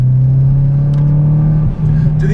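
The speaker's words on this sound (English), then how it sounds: "it's got just a good balance of turbo and exhaust noise" A modified Mazdaspeed6 drives with a steady, loud droning exhaust note and turbo noise heard from inside the car, with a brief dip in engine sound and a faint tire squeal.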